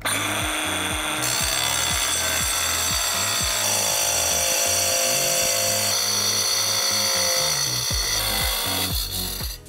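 A Ryobi LTS180M 18V cordless tile cutter slices a 60 cm run through marble-effect tile, a loud, steady motor whine with a grinding cut that holds for about ten seconds before trailing off at the end.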